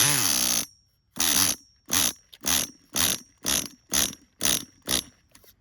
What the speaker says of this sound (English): Motor sounds crazy.